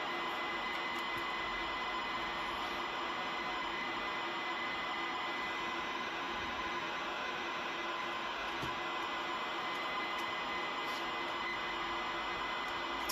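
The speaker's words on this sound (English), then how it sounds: "So all the tones and sounds you're hearing now is actually data." A ZX Spectrum loads game data from tape, giving a continuous harsh buzzing screech of data tones that stays loud and unbroken from start to finish.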